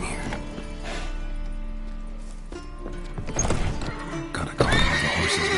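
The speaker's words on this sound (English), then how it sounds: "Calm the horses." Horses neigh and whinny in The Witcher, with clip-clop hoofbeats shuffling beneath; a long whinny opens, then sharper neighs and stamping build louder toward the end amid game ambience.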